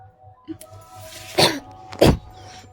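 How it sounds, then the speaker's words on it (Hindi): Two sharp, loud coughs close to the mic, about half a second apart, after a faint throat sound. "सॉरी एवरीवन थोड़ा सा खांसी आ गया था"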